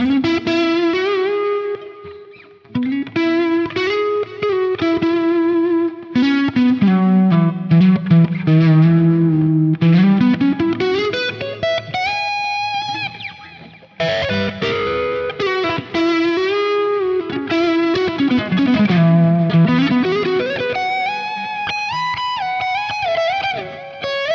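Distorted electric guitar playing a melody with bent notes that slide up and hold at the raised pitch without coming back down, loud and effect-laden with chorus, no voices.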